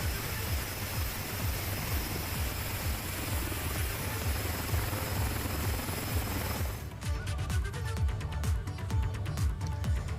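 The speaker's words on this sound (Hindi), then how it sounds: "पिथौरागढ़ में मौजूद MI-17 चिनूक और चीता हेलीकॉप्टर से डीएम आशीष चौहान की पहल पर रेस्क्यू भी जारी है।" Indian MI-17 or Cheetah helicopter on a disaster rescue in Pithoragarh, heard as steady loud rotor chop and engine roar that continues the whole time and turns harsher and more thumping near the end.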